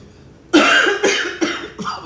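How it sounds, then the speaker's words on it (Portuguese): Cough from someone at a casual coffee-and-music session at home, a series of four harsh, close bursts with short gaps, the last ones weaker. "Uma tosse."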